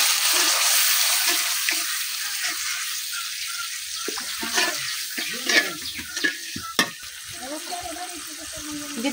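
Spice paste with fried onion and a splash of water sizzles in a pan while a spoon stirs it, a loud steady hiss at first settling into softer bubbling with irregular scraping knocks close up.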